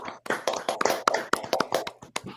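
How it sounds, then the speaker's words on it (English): Sparse, uneven clapping from a small audience at a pitch competition award, a few pairs of hands tapping out quick irregular claps close by, with no voices. "Another round of applause for our winners."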